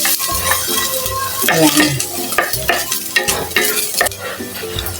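Ginger sautéed in a pan, a loud close sizzle broken by frequent scraping and clinking spatula strokes. A brief voice speaks once.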